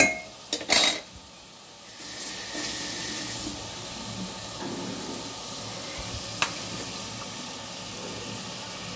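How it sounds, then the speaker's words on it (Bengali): Spices frying in a pan, heard as a steady, hissing sizzle that follows a few clattering knocks at the start, with one brief clink partway through and no talking. "খুলে মশলা দেবো, ওটা মশলা ভাজি হবে।"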